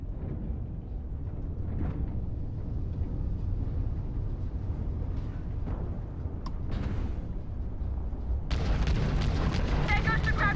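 Missile explosions in the space game Starfield: deep rumbling booms roll on continuously beneath a talking voice, then a sharper, louder blast erupts near the end.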